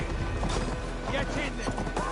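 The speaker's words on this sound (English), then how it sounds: "Stop that horse!" Horse hooves pounding at a gallop in the video game Assassin's Creed Valhalla, a steady thudding run mixed with loud game action and shouted voices.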